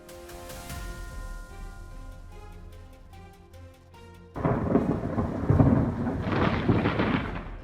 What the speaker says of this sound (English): An Air France flight landed at Saint Martin under Tropical Storm Isaac, an unforgettable landing in extreme conditions.